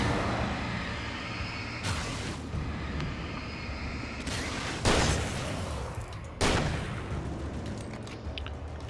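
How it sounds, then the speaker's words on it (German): Gunfire in the horror action game Alan Wake, with several sharp reports landing roughly a second or two apart over a steady background of game ambience and music. "Einer schießt immer daneben, das gibt's gar nicht."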